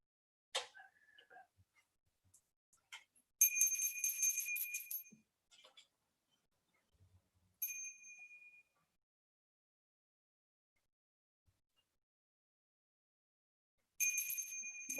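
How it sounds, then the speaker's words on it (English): A ritual hand bell rings during a Hindu puja at the Chinmaya Mahasamadhi Aradhana, as incense is offered. It sounds in three bright, clear bursts of rapid ringing, separated by near-silent pauses. "Ring the bell."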